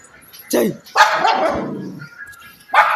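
A dog barks sharply up close, a couple of loud yaps in quick succession followed by another bark after a short pause.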